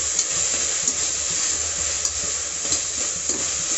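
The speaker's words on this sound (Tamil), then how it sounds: "இதை ஒரு தடவை வதக்கி விட்டுக்கலாம்." Onion and tomato sauté in hot oil for chickpea biryani. A steady, close sizzle carries soft scraping and stirring taps throughout.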